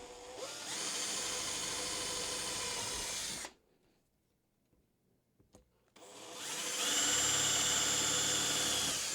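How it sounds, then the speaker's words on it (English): An electric drill bores into aluminum while prototyping a crossbow, a steady loud whine for about three seconds, a pause of near silence, then the drill resumes just as strongly. "Just using a drill,"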